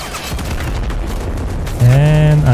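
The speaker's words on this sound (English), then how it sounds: "Dude, RPG's just one-shotting Abrams from frontal." In a military video game, dense gunfire and rumbling explosions pound an Abrams tank as RPGs hit, a continuous loud barrage, with a tonal horn or engine note rising near the end.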